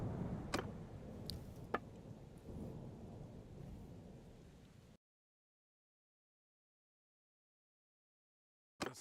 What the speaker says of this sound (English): let me just turn the thunder down for a second